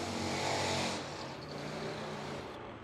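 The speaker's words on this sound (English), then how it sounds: "Hearing that magnificent thumping from Harley." A Harley-Davidson powered Pro Fuel drag motorcycle with a 120-cubic-inch single-carburetor engine rumbles in a loud broadband roar, strongest at first and then easing into a steady drone, with no talk.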